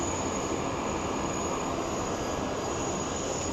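A jet airliner at Sydney airport roars steadily and loudly throughout, a broad constant engine rush with a thin high whine on top and no talk.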